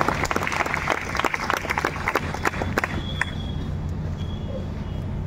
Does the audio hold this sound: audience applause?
yes